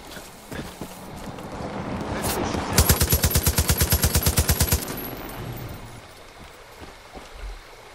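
A rapid automatic burst of gunfire in Far Cry 5, about two seconds of loud evenly spaced shots fired close by, with quieter scattered game noises before and after.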